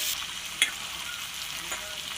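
A fish head frying in oil with onion, salt and turmeric, a soft steady sizzle with one brief metallic clink of a utensil, close and without talk.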